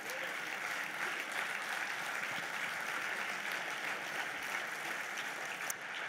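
Audience applause for the young socialists at a French Socialist Party congress, dense, continuous clapping from a large hall crowd, heard fairly faint and steady throughout.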